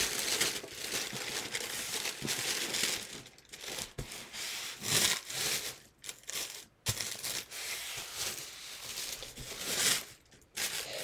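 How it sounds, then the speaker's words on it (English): A sheet of paper crinkles, rubs and creases in irregular bursts as it is folded corner to corner for an origami elder dragon, close up, with no talking. "We're gonna fold this corner to this corner."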